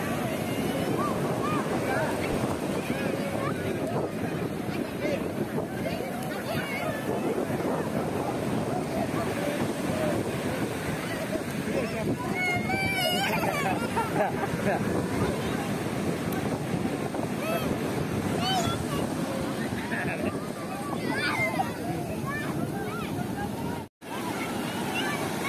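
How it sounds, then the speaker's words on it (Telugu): Big ocean waves surge and break at Yanam beach in Konaseema, a broad continuous roar buffeted by heavy wind on the microphone, with people's voices faintly mixed in. "ఫ్రెండ్స్ చూడండి కెరటాలు ఎంత పెద్ద పెద్దగా ఉన్నాయని."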